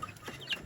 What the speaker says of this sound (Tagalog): Yan, mga sisiw natin.